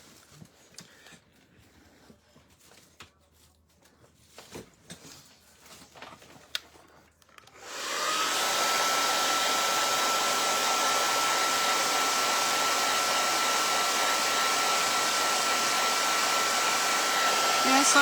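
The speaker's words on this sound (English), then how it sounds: "All right, let me blow dry this a little bit." A hair dryer blow-drying a painting switches on partway through, after some quiet handling noises, then roars loud and steady at close range until the end.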